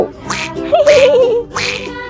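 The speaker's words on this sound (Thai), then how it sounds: "เป็ดลอยน้ำอยู่ในบึงเลย" A duck quacks three times in close, loud calls, with a wavering whistle-like tone between the first two quacks.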